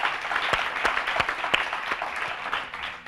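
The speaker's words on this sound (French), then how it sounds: "que je vous demande d'applaudir" An audience applauds the minister of education at an evening ceremony, a lively crowd clapping with a few sharp, close hand claps standing out above the broader wash.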